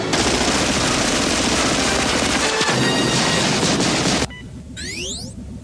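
Heavy automatic gunfire rattles without a break in the animated film Batman: Mask of the Phantasm, loud and dense, then cuts off abruptly into a quieter stretch with faint whistling sweeps.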